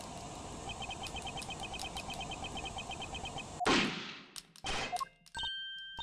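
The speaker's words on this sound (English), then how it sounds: "Wait, that noise! That was a gunshot." Gunshot on a tape recording in the Ace Attorney Investigations video game. A single sharp, loud crack bursts out midway over a steady chirping background, and a few metallic clangs and dings follow.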